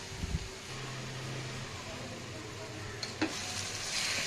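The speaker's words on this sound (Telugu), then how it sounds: "ఇప్పుడు ఇందులో మనం 2 table spoons ginger garlic paste వేసుకుందామండి" Ginger garlic paste and softened spring onions fry quietly in a pan for a fish curry, giving a low, steady sizzle. A faint fan-like hum runs underneath, with a couple of brief utensil knocks near the end.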